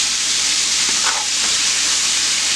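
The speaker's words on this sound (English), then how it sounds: "I'm going to let it fry just a little bit more, so I can make sure that they're crispy" Catfish and shrimp frying in oil give a steady, close, loud sizzle with hissing bubbles throughout, and a couple of faint clinks partway through.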